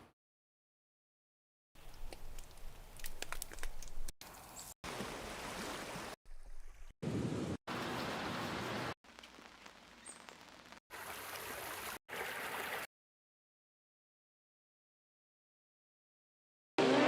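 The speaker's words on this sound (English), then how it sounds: "Let's see if I have some water sounds that might be cool." Water sound effect samples of streams and waves play back in short bursts with abrupt cuts and gaps of silence between them.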